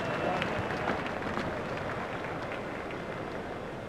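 A cricket video game crowd stands and applauds with a steady, dense wash of clapping and cheering, held at an even level throughout and heard alone.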